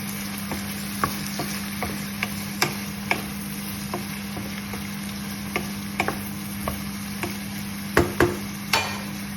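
Food sizzling steadily in a pan for sapsuy while a utensil stirs it, sharp scraping clicks landing at irregular intervals over the constant frying hiss, close and fairly loud, with no talking.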